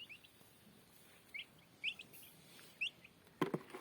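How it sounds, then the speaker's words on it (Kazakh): Newly hatched turkey chicks chirping in a quiet room, a few thin high peeps spaced apart, followed by a sharper louder call near the end. "Жаңа шыққан күрке тауықтың балапандары."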